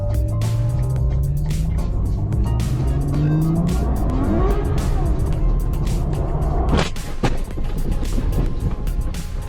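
A Ferrari 812 with traction control off revs hard, its V12 rising in pitch as tires squeal and skid, then a sudden sharp crash impact near the end, loud and close.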